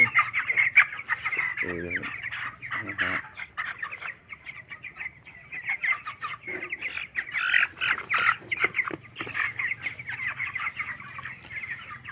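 Broiler chickens about 26 days old cluck and chatter steadily as they crowd in to eat grain feed on a farm, a busy close chorus of overlapping calls.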